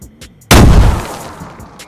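A pot charge explodes against a base gate in DayZ, one sudden loud close blast after quiet, followed by a decaying rumble.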